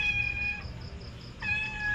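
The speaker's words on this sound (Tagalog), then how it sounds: "Yun o, may pusa sa ilalim ah." A cat meows from under a table, two drawn-out tonal calls separated by a short pause, fairly close and clear over low background hum during a meal of bringhe.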